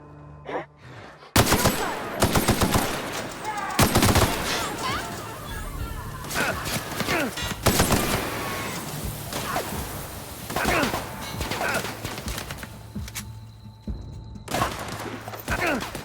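Light machine gun fire in the video game The Outer Worlds, loud close bursts and single shots with impacts scattered across the clip, and a voice speaking in between.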